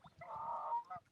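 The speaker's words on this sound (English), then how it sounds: "Oh, there's the geese" A single clear honk from a goose in a flock flying north, heard outdoors at a fishing spot. The honk is moderately loud and slightly distant, with softer calls just before and after it.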